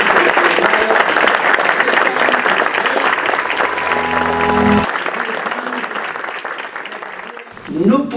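Applause from an audience at a public hearing on social security, dense clapping that runs for several seconds and then trails off.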